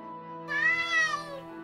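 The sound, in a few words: cat meowing in video game Fire Emblem: Radiant Dawn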